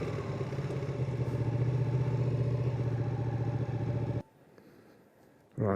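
Ducati Panigale 959 sport motorcycle running steadily at a low, rumbling idle close by, its engine note loud and even for several seconds before cutting off abruptly into near silence, then a brief noise returns at the end.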